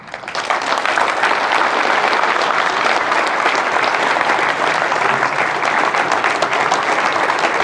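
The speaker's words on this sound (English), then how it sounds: "Give us another round of applause" Loud, dense audience applause after a motivational talk, a steady wash of many hands clapping throughout without letting up.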